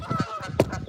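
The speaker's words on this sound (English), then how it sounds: "There's them damn geese again." Geese honk repeatedly outdoors beside Bull Shoals Lake, a series of loud, nasal calls arriving in quick bursts, fairly close and clear with no talking over them.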